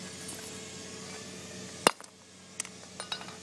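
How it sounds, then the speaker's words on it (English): A hammer strikes a San Juan fiberglass pool frozen to minus 320 degrees, giving one sharp, loud clink near the start, then a few lighter taps and knocks afterward, alone without talk. "Why don't you hit that with a hammer?"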